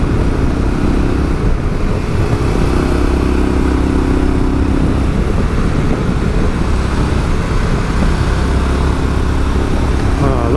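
A Yamaha Ténéré 700 with an Akrapovic exhaust rumbles loud and continuous while riding through the Swiss Alps, a deep engine drone mixed with wind rush that holds steady throughout.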